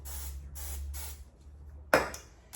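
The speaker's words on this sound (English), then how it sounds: "take your little cooking spray, and you just want to dust them." Short bursts of cooking spray dust food before it goes into an air fryer, a few hissing sprays in quick succession close up, followed by a sharper clatter near the end, with no talking.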